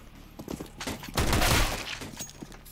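Gunfire in the tactical shooter CS:GO, a quick volley of shots peaking in a loud burst midway, with sharp clicks and impacts around it and no talking.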